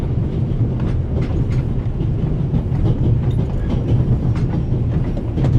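Moving train in The Raven Remastered video game, a steady close rumble with rhythmic clickety-clack of wheels on rails throughout, without speech.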